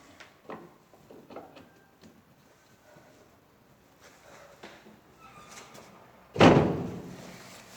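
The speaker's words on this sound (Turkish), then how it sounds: "Evet kapıyı kapattım." A door is shut indoors with one loud, sharp thud near the end, preceded by quieter scattered knocks and rustles, no voices.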